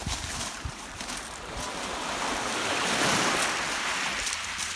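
Surf washing onto a sandy beach with a strip of pebbles at the water's edge, a steady broad wash of waves rising slightly midway, with wind noise on the microphone and no one talking.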